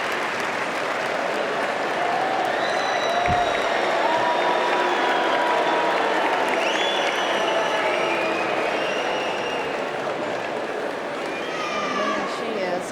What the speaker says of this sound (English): hear the crowd screaming as they're showing Billie Jean King up on the Jumbotron